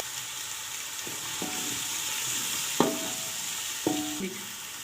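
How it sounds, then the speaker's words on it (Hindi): Garlic sizzles steadily in oil in a pan while a spoon stirs it, with several sharp scraping clinks against the metal over the constant close frying hiss, no talk. "अब इसमें लहसुन डाल देते हैं। इसको हम 3-4 मिनट भूनते हैं"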